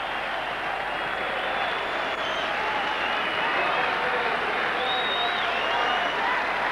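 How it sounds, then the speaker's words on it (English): Huge racecourse crowd at Moonee Valley roars and applauds champion horse Might and Power after the 1998 Cox Plate, a dense, sustained wall of cheering and clapping with occasional whistles throughout. "Well, there it is, the crowd, the reception for Might and Power."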